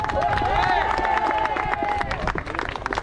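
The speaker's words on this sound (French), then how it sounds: "on peut bien les applaudir, Marie et Jean-Baptiste" A crowd claps and cheers for the first-place winners of a race competition, with dense, irregular hand claps over excited voices and whoops, holding loud before thinning slightly toward the end.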